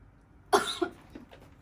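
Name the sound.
person coughing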